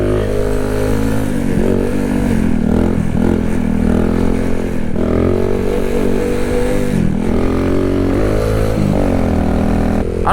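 Kawasaki Z125 motorcycle being ridden, a loud close engine drone with shifting revs and brief dips as the throttle changes, running steadily throughout.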